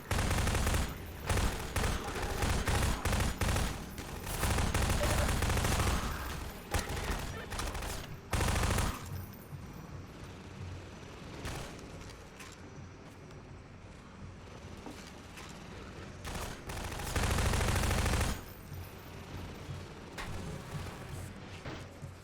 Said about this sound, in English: This gun's still very loud, though.